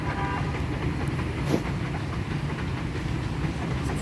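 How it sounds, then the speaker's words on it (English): A train rolls slowly through Hanoi in northern Vietnam, giving a steady rumbling clatter of wheels with a soft hiss and one brief sharp clank, heard from close by without talk. "This is the train."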